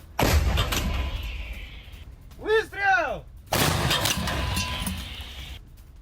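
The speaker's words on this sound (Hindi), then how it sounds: "रूसी सेना ने होवित्जर से धावा बोला" Howitzer artillery fire near Seversk, a heavy booming blast that rolls on with a long echoing tail, a pause broken by two short swooping tones, then another loud report with lingering rumble.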